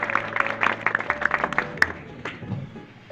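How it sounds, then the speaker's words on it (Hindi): An audience claps through a Republic Day speech, a short patter of scattered hand claps that thins out and fades within a few seconds. "जोरदार ताली होनी चाहिए किसी सरकार के लिए"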